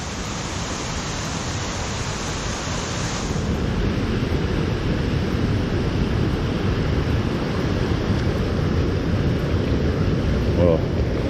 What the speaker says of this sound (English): there's quite a bit of water coming down there at Pepsi. At the waterfall at the top there.